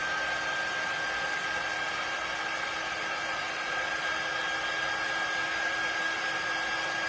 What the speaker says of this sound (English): Let me give this a little dry.